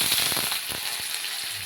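Cut potatoes drop into hot oil and set off a burst of loud, close hissing with a few sharp crackles. The burst then settles into an even sizzle.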